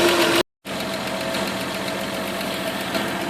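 A car engine idles steadily after a Stromberg carburettor fuel leak repair, a smooth, even mechanical hum with a faint knock. The sound cuts out briefly near the start, then continues unchanged.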